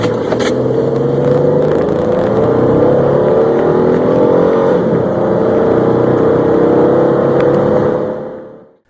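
A second-generation Dodge Durango with the 3.7 liter V6 and four-speed automatic accelerates hard, a loud sustained engine drone climbing steadily in pitch, heard up close and alone before cutting off abruptly.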